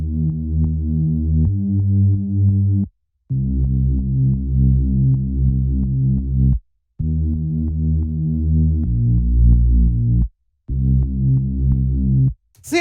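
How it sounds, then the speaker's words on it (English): Synth bass line in an electronic track, following the chord progression: sustained, harmonically rich low notes in phrases of a few seconds, separated by brief gaps, playing alone at moderate volume. "Next thing that we've got is the bass,"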